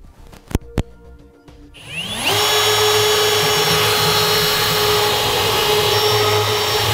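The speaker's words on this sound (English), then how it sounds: "Now we'll take a 1/4 inch drill bit and drill through this hole as our guide." A power drill with a 1/4 inch bit spins up after a couple of clicks and then whines loudly and steadily while boring a pilot hole during a gooseneck hitch installation on a 2016 Chevrolet Silverado 2500.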